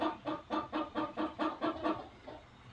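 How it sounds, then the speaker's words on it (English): A red-shouldered Yokohama hen clucks in a quick run of about ten short, evenly spaced calls, close by, trailing off softer at the end. "She's a red-shouldered Yokohama, one of my smallest chickens."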